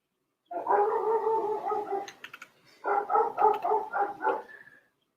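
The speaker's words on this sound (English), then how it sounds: "I guess I can't blame that barking dog on Lynn." A dog barks in two sustained, close bursts of loud yelping barks, separated by a brief pause, with no talking over them.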